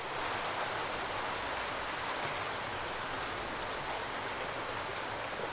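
Rain falling in a video game, a dense, even hiss of drops pattering on surfaces, constant and fairly loud throughout with no voices.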